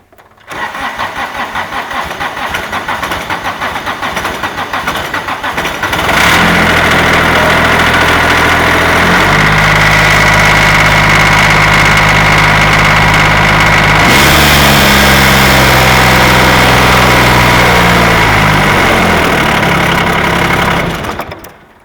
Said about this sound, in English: let me fire the tractor up